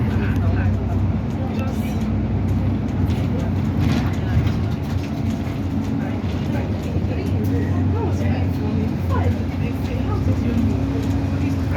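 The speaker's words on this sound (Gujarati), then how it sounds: "આપણે ડબલ ડેકર બસમાં બેઠા છે ને ઉપર" Upper deck of a London double-decker bus in the UK, with a steady engine drone and road rumble running throughout, people talking over it.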